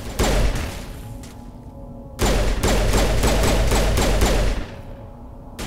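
Gunfire in Mass Effect Legendary Edition, a loud rattling volley, a short lull, then a longer sustained burst of rapid shots before fading.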